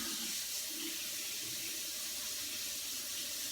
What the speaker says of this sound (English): Water for the focaccia, it is 175 grams of warm water.